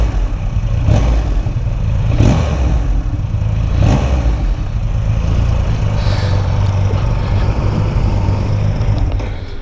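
Triumph Rocket 3R motorcycle engine idling with a deep, steady rumble close by, lifted by a few short throttle blips in the first few seconds, loud and continuous with no voices.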